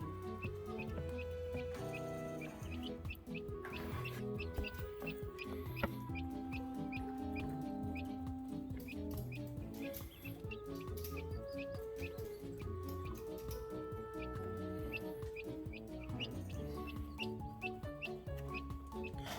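Young chickens cluck and chirp steadily alongside a few older birds, a dense, continuous barnyard chatter close by with no speech.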